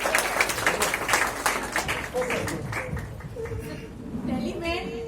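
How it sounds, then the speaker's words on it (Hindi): An audience at an award event claps vigorously for a student. The applause is loudest at first, then fades beneath a voice speaking over a public address system. "रोहित मिश्रा जी को बहुत जोरदार तालियां"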